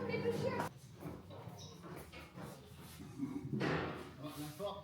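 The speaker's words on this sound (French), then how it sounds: "La porte qui claque, tout ça." A door slams with a sharp, heavy thud partway through, heard indoors amid ongoing conversation and background noise.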